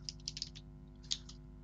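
Quick bursts of light clicks come from a computer keyboard as text is typed, a short run of close, faint keystrokes followed by a brief pause and one more small cluster.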